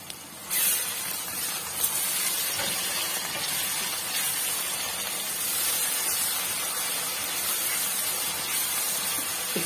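Ginger garlic paste and green chilies hit a pan of frying mince with a sudden loud hiss that settles into a steady, dense sizzle.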